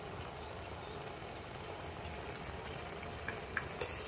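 Cabbage simmering in a covered pot gives a soft, steady bubbling hiss throughout, quiet and continuous, with a few faint ticks near the end.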